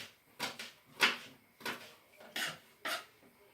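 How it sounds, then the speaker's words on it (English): A kitchen knife chops food into small pieces on a board, six or so firm knocks landing at an uneven, unhurried pace, close by and fairly loud with no talk. "get your knife and lean down on it and just chop it into nice small pieces"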